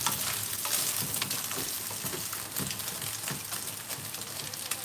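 Soyabean chunks frying in a pan for masala pasta, a steady close sizzle with faint stirring scrapes, continuous and fairly quiet with no talking.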